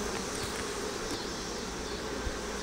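Honey bees buzz around an open hive that the colony had abandoned, a dense, close, continuous drone that holds level throughout.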